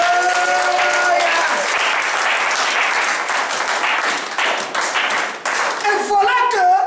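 A church congregation applauding and acclaiming the Lord during a service, dense sustained clapping from a large crowd, loud and close, with a voice and musical tones rising at the start and end.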